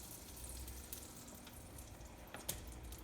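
Eggs poured into a hot buttered pan in a home kitchen give a faint, steady sizzle, with a few soft clicks and clatters over it.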